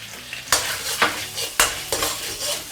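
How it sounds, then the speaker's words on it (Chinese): Minced ginger and garlic stir-fried in a little oil in a wok, with steady sizzling broken by several sharp scrapes and clatters of the spatula against the pan, close and fairly loud. "锅里给少许的油，下这个姜米和蒜米"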